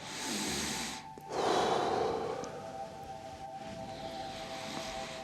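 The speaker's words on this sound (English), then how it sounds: "Breathing in, breathing out." A slow, deep breath drawn in and let out during gentle seated exercise for seniors, soft and close, with a fuller exhale surge partway through and quiet tonal background sounds.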